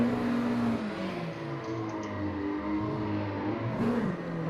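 A 250-horsepower Mazda MX-5 in a sim drifting game drones with a steady, buzzing engine note that dips and rises as revs shift, fairly loud and continuous with no talk.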